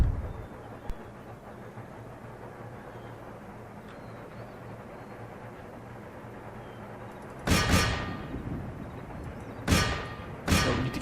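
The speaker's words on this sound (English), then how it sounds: "Where is that gunfire coming from?" Musket volleys and artillery fire in an Empire Total War battle at Hannover, with a low rumbling battlefield din that gives way to three sharp, loud bursts of gunfire near the end.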